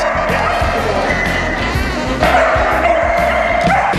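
A dog named Prince barks and yips during agility training with its owner, sharp repeated barks close by over a noisy crowd-like background with voices.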